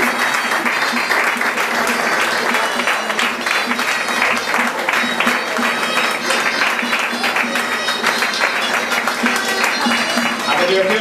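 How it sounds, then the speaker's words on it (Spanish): Steady, loud applause from a packed audience greets the fallera mayor at a Valencian falla event, a dense unbroken wash of clapping throughout. "Siempre recibimos ese fuerte aplauso que se merece a nuestra fallera mayor para 2020, Teresa Hoyos"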